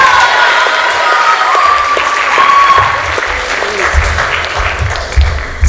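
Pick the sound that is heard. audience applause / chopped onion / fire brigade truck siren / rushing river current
audience applause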